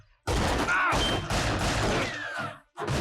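Bursts of gunfire in the TV series LOST sound as a loud, dense fusillade of overlapping shots with short gaps between volleys.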